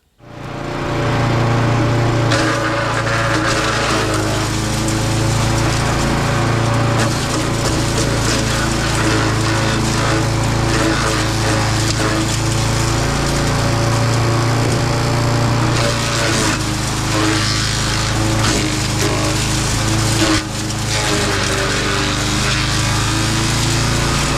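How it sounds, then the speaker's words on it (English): Wood chipper chewing through maple brush: a loud, continuous engine drone with grinding and crunching bursts as branches feed in, lasting throughout with no voices. "I don't mind running the chipper. This didn't take that long to chip."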